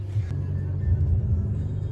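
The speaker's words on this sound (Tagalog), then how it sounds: "Traffic." Road traffic rumbles past in a low, continuous drone with a passing car's engine rising and falling, fairly close and steady, with no talking.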